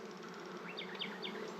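Honeybees crowding a hive frame during queen rearing give a steady close buzz, with a few brief higher chirps rising above the hum.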